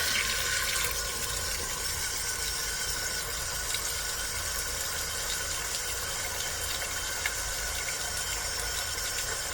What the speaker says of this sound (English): turn on the tap and the water come. So now the water is coming